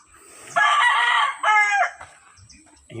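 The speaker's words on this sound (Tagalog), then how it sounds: "Ayun pala yung manok isa guys oh." A chicken calls loudly and close by, two strained, drawn-out cries with a short pause between them, followed by quieter background sounds.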